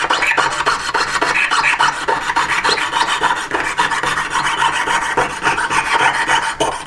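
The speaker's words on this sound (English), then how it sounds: "This is quite a thin saw blade" A thin hand saw blade rasps through a chunk of metal in fast, steady back-and-forth strokes, close and loud throughout with no pauses or voices.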